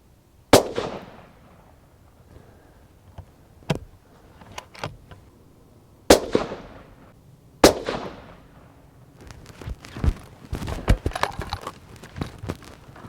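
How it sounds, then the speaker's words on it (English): Remington 783 rifle in a laminate stock fired outdoors, several loud sharp cracks spaced seconds apart, each trailing off in a short echo, followed by quieter clicks and shuffling handling noises. "this rifle is not particularly easy to shoot freehand at longer range"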